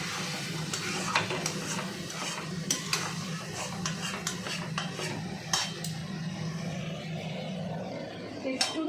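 Food frying in generous mustard oil in a pan, a steady close sizzle broken by sharp scraping and clinking of a spatula against the metal, with a voice talking faintly.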